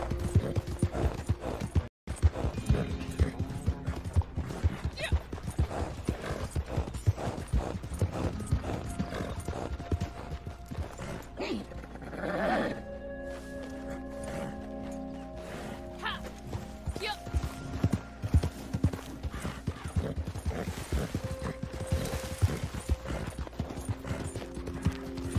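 Horse hooves clip-clop steadily in Red Dead Redemption 2, with a short break and mechanical clicks partway through, under game music and light chatter.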